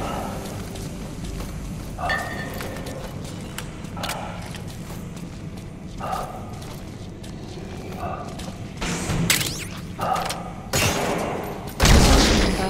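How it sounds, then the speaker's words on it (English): Gunfire in Metal Gear Solid V cracks out in scattered bursts over a low rumbling game ambience, with louder, denser shots building toward the end. "Shooting your own men!"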